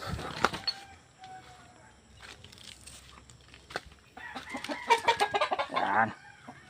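Chickens in a small backyard coop, including two-month-old birds, clucking and calling close by in uneven bursts that grow denser and louder toward the end.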